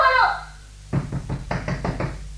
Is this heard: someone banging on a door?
yes